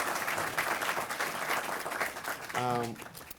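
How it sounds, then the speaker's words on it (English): An audience at a PRSA public relations symposium applauds the planning committee with a broad, steady ripple of many hands clapping, and a voice speaks over the applause as it trails off near the end. "give a round of applause to this planning committee"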